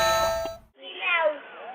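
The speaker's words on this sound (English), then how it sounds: "Use the Halloween doorbell." A Halloween prank doorbell goes off at close range, giving a short bright chime and then a loud, wavering, meow-like spooky wail.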